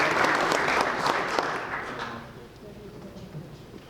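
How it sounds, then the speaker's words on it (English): Applause for Captain Lou at a veterans' For God and Country service, a crowd clapping strongly at first before gradually thinning and fading away toward the end. "How about a round of applause for Captain Lou"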